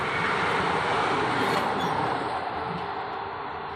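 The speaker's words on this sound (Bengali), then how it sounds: "পরপর দুটো ট্রেনের ক্রসিং ছিল, তাই অনেকক্ষণ অপেক্ষা করতে হলো আমাদের টোটোতে বসে" A train rolls past a railway crossing, a continuous rushing rumble with faint wheel squeal that swells in the middle and eases slightly toward the end, heard close and without talk.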